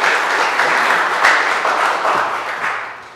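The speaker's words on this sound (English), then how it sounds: "Give them a round of applause for being" An audience at a conservation workshop applauds its panelists, a dense, even wash of clapping that holds steady throughout and tapers slightly at the end.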